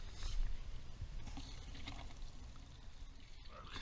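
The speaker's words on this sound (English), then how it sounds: "So what we've got to do is drain and rinse and separate the shells from the media." Water drains and splashes steadily as brass cartridge shells are rinsed and separated from tumbling media, a continuous low pouring wash with a faint rattle near the end.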